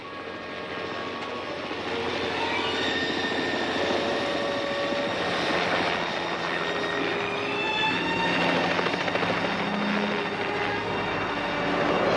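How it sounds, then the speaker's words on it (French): A hospital helicopter drones steadily overhead, its engine and rotor roar holding loud and constant throughout with no voices. "Voilà l'hélicoptère de l'hôpital. Il doit se passer quelque chose."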